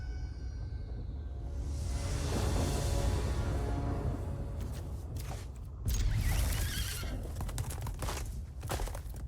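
A horse neighs and whinnies during a card video game, the cry sweeping down over the first seconds, followed by a sharp jump-like burst and a scatter of clattering effects.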